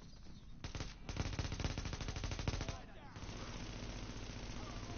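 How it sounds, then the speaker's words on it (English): Suppressed FAMAS rifle fired in The Division, loosing a sustained, rapid automatic burst of about two seconds that stops abruptly, then quieter game ambience. "Yeah, FAMAS is fucking loud, dude. With a suppressor?"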